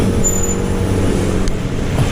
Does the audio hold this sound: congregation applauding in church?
no